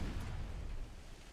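A torpedo blast striking a warship in Ultimate Admiral: Dreadnoughts, a single deep rumbling boom that rolls on and fades slowly over a second.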